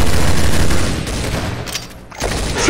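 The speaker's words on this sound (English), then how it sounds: "Shoot him, please!" Video game gunfire fills the scene as a dense, loud burst of rapid shots. The shooting eases briefly toward the middle and then picks up again.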